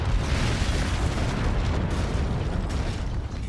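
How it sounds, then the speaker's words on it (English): Rumbling mortar blasts from a competitive online game match roll together into a dense, continuous booming wash that stays loud throughout. "Here come the mortars."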